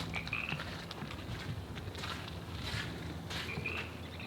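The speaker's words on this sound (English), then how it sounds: "Frogs are out there." Several short, raspy frog croaks repeat at intervals over a quiet outdoor background, fairly close and distinct.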